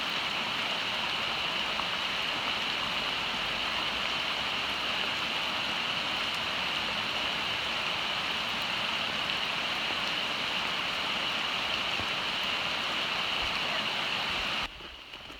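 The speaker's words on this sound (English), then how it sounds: "Will this rain last for 5 minutes?" Steady, even rain hissing continuously, close and fairly loud, with no talking, ending abruptly near the close.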